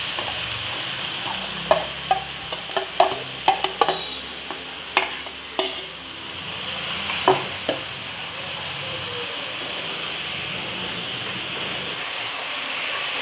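Half a kilo of chopped onions tipped into a hot pan for Thoothukudi-style mutton chukka, with sharp stirring scrapes and clatters early on over a steady sizzling hiss that continues alone.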